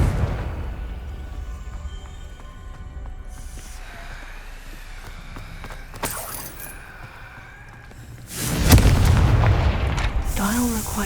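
Confringo blasting spell going off in the Hogwarts Legacy video game, a loud broadband burst near the end following quieter game ambience with a brief crack partway through.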